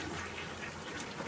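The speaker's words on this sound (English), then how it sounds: "This is the toilet. Toilet works." A toilet in farm worker housing flushes, giving a continuous rushing gush of water that stays steady throughout, close and fairly loud, with no voices.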